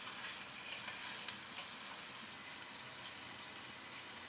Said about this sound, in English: add the meat pieces into the pot and fry on high heat for 5 minutes